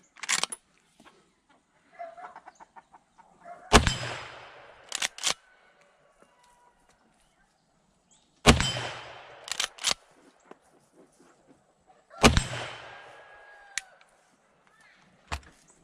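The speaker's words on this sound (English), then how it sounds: "let's shoot this 92 a couple times" A Winchester 92 lever-action rifle chambered in .32 WCF fires lead bullets: four sharp, loud shots spaced several seconds apart, each followed by quieter mechanical clatter from cycling the lever.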